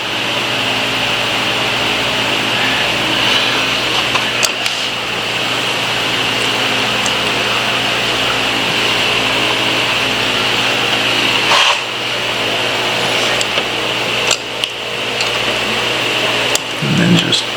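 A machine cutting an aluminum motorcycle part for a GS1100 bobber build runs as a loud, steady hum and hiss with a constant pitch, broken by a few brief clicks and knocks, no talking.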